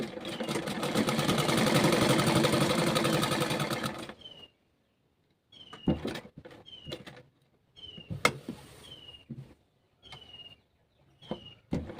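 A sewing machine stitches the lining of an A-line kurti with a flat collar. It runs steadily and loudly for about four seconds, then stops, leaving scattered clicks, taps and short squeaks as the fabric is handled.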